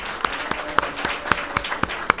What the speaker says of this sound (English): candidate panel a round of applause